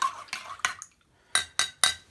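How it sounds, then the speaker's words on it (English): Salt and turmeric being stirred in a mortar with a pestle: a few sharp scraping knocks, then a pause and three louder, evenly spaced grinding strokes, close and alone. "So I'm stirring this."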